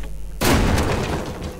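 A loud explosion blasts a door open in the Killing Floor game, a sudden heavy boom followed by a long rumbling, crackling decay that fills the rest of the moment.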